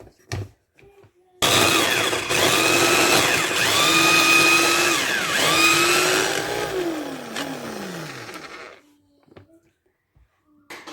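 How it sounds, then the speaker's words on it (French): A kitchen blender whirs loudly for several seconds, chopping vegetables into a purée, its pitch dipping and shifting as the load changes before it winds down and stops. "Maintenant, je vais les mixer."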